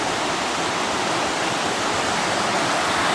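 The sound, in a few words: river water flowing through old mill workings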